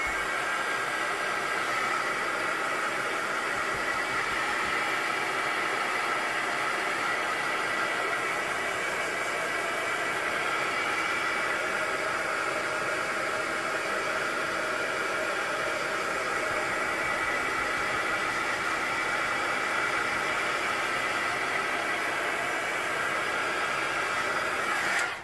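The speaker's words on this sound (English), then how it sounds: "If you're in a hurry, I have this scrapbooking heat gun." A scrapbooking heat gun dries paint on modular tabletop RPG road terrain, giving a steady, loud blowing hiss that runs unbroken for the whole stretch with no talking.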